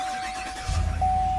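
A 6.2 liter V8 in a GMC Yukon Denali fires up by push button, a low rumble swelling in about two-thirds of the way through and settling into a steady, fairly loud idle, with a faint constant tone running over it.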